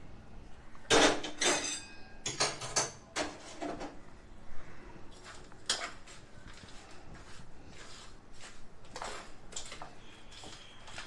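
Hot homemade ghee being mixed into a healthy laddu mixture in a bowl, giving irregular bursts of clinking and scraping from a spoon against the vessel; close, with short pauses between strokes.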